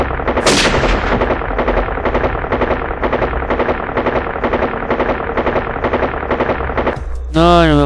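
Gunfire in the video game Elite Sniper 2 rattles in a loud, fast stream of shots lasting about seven seconds, followed by a brief warbling game tone at the end.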